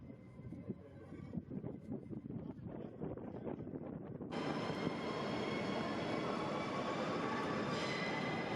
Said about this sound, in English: Train arriving at Amsterdam Central Station.